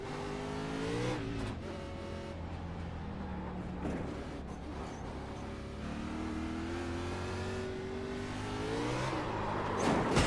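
Car engine in a racing sim video game, revving and rising and falling in pitch as the throttle is worked around a track; a steady, loud drone with harmonic whine throughout and no talk.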